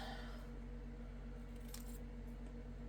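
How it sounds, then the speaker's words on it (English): Scissors snip through paper during a Stampin' Up Paper Pumpkin lavender card craft project, a few quiet cuts over a steady low hum. "Cut that apart."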